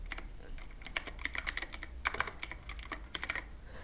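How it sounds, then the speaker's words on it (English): Rapid bursts of clicking keystrokes on a computer keyboard while filling in a name and email on a website sign-up form, close and clear, with short pauses between runs of typing. "Now type here your first name and then type your email"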